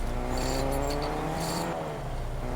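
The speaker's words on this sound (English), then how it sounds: "I could hear someone was driving" A car is driven in the Fortnite video game, its engine a steady droning hum with some revving, heard at moderate level for a few seconds and with no speech over it.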